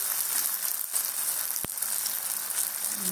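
Poppy seed and green pea fritters frying in hot oil: a steady, loud, close sizzle that runs unbroken, with one sharp click partway through and no talking.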